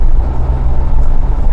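Cabin drone of a Mahindra Thar diesel automatic SUV driving in the city: a steady, loud low engine rumble and road noise that holds level throughout, with no talk.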